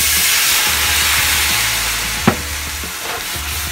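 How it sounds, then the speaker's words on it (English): A pan of sautéed mushrooms for chicken marsala being deglazed, producing a loud, steady hissing sizzle close by, with one sharp clink of a utensil partway through. "So that is deglazing the pan."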